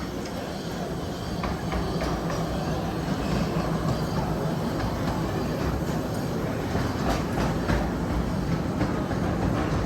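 A miniature railway train on the Ravenglass & Eskdale Railway rumbles steadily close by as it arrives, wheels clattering on the narrow-gauge track in a continuous, even roar.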